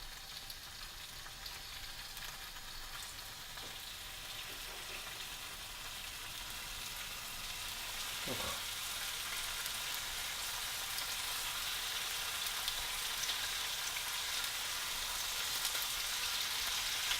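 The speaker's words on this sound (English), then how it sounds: "And you want a nice little sizzle." Organic produce fries in a pan with a soft, steady sizzle that swells a little louder partway through, faint and even, with no talking.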